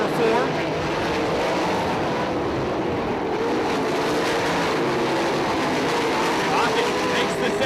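410 sprint cars race on a dirt raceway, a dense continuous engine roar that holds loud and steady throughout, with a race announcer talking over it.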